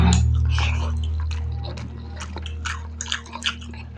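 Someone eating rice with cabbage curry cooked with fish head, with close, wet chewing and soft squishing bites over a low steady hum.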